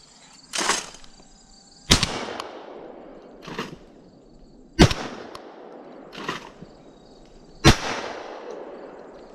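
A Mossberg SA-28 shotgun fires at an outdoor range: loud, sharp reports spaced a couple of seconds apart, each with a short ringing tail. Fainter clanks and handling noises fall between the shots, and no one speaks.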